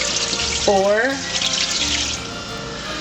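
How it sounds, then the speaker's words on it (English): Tap water running into a pot for chicken stock, a steady close gushing stream with a rising pitch as it fills, while a voice speaks briefly. "And then you're going to add to that roughly 12 cups of water."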